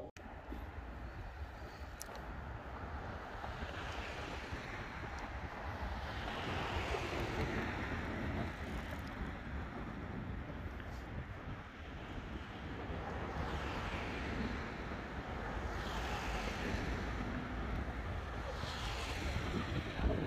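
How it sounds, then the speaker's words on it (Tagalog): Strong wind roars steadily against the microphone, surging in broad gusts over a constant low rumble, with no voices. "Masyadong mahangin!"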